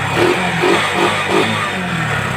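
A Yamaha STX 125 motorcycle with a weak stator and no electrical power idles close by, its engine running loud and steady with a rhythmic pulsing throb and mechanical clatter.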